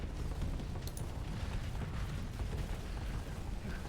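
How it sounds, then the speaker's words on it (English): A large space station blowing apart in the Starsector space combat game, a dense, sustained rumbling roar that holds steady throughout with no distinct separate blasts. "Another big station explosion."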